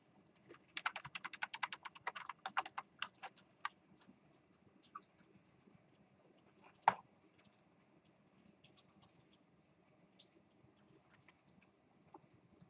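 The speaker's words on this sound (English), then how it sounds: "probably close that before people were done typing" Students typing on computer keyboards in a lecture room, a dense burst of quiet clicking keystrokes early on, then sparse taps and one sharper knock, all faint with a low room hum and no speech.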